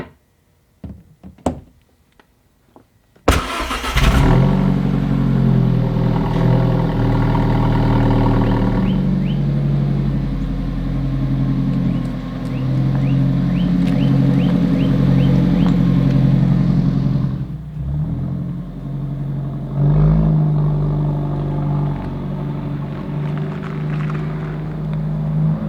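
An Alfa Romeo 4C sports car fitted with GMS rear control arm bushings drives after a few opening knocks, its engine holding a loud, steady drone with shifting tone and a brief dip near the end.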